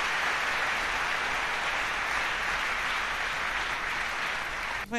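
A church congregation claps together in steady, sustained applause that fills the room evenly for several seconds before cutting off abruptly, with no voices standing out.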